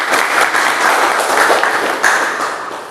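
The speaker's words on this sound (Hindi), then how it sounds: "उसके लिए तालियों से इनका स्वागत करें।" A crowd at a public gathering claps steadily to welcome ASP Meena, a loud, continuous wash of applause with no pauses.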